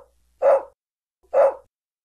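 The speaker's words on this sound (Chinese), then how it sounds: "琪家的小狗喜欢汪汪叫，又爱摇尾巴。" A small dog gives two separate, sharp barks roughly a second apart, close and clear against near silence.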